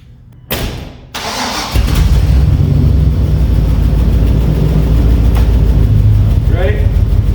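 A truck with straight pipes and no muffler cranks and fires up, a brief starter whir followed by a loud, rough, steady rumble that settles into idle, with a person speaking briefly.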